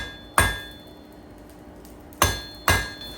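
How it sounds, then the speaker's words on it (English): Three sharp, ringing hammer blows strike hot steel on an anvil while a fire poker is tapered over the anvil's edge. One blow falls near the start and two close together near the end, each loud and near, with a metallic ring. "I'm putting it over the edge of the anvil again, so we're putting that taper on it"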